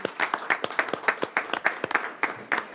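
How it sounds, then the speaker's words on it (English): A small group claps in a legislative committee hearing room, a thin run of quick, uneven claps at moderate volume that carries on steadily. "I would like us to all give you a round of applause for your service this year"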